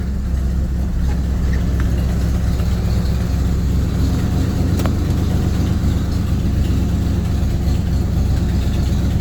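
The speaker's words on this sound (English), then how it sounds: "Now it's idling normally, and this is how it idles normally." Steady, even idle of a 1977 Corvette engine after warm-up, a continuous low rumble heard close and alone with no voices.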